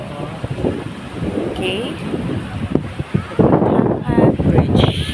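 Strong sea wind gusts across the microphone at Matapat Bridge by the sea, a loud rumbling buffet with surging bursts, while a voice speaks briefly.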